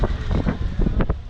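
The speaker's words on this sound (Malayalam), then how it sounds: "നല്ല കാറ്റ്" Strong wind buffets the microphone at Harihar Fort in a short burst of low, rumbling gusts with no voices.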